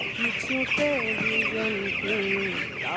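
Broiler chickens cluck continuously in a heated shed during cold weather, a dense chorus of overlapping close calls with a steady background hum.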